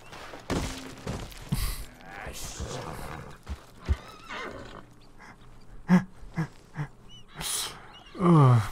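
A horse named Firefly in Red Dead Redemption 2 whinnies and snorts close by amid scattered thumps and hoof sounds, with a loud breathy neigh near the end.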